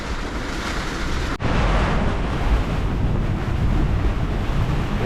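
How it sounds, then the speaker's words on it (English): Gale-force storm wind roaring around a sailboat moored on a mooring ball, with waves washing against the hull; loud, continuous buffeting noise close to the microphone, with gusts near 50 knots. "It's blowing a gale outside"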